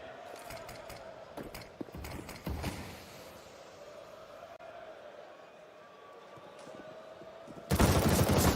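Automatic rifle spray in a Counter-Strike match on the Inferno map at a pro esports major, with several bursts of gunfire and mechanical clatter under crowd and game noise, ending in a loud sustained burst.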